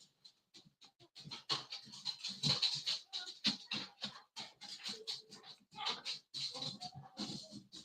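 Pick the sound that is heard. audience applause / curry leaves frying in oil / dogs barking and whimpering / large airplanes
dogs barking and whimpering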